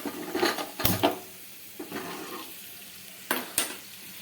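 Asafoetida gets stirred into green chilli pickle frying in a pan, with a soft sizzle broken by a few sharp spoon knocks and scrapes against the pan; no talking.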